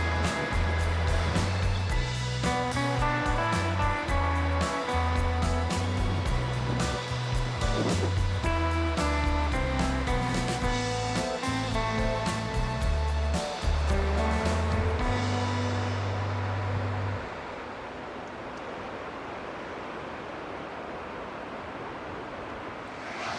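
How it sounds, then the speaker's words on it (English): Waves whipped up by strong wind, a loud, continuous rushing roar of surf and gusts that drops to a quieter wash near the end. "The wind here is really strong, creating waves."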